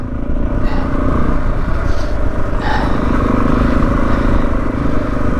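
Suzuki DRZ400E motorcycle ridden off-road along a green lane, its engine a steady, loud rumble that holds throughout with slight clatter and rough-ground texture, no pauses.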